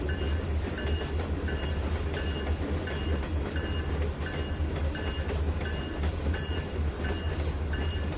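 A train passes close by in the Trainz 2019 simulator, with a steady low engine rumble under a repeating clickety-clack of wheels over rail joints, loud and continuous throughout, with no talking.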